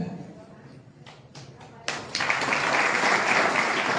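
Audience applause at a Birsa Brigade speech event, a few scattered claps at first, then a dense, loud burst of many hands clapping that swells and holds steady.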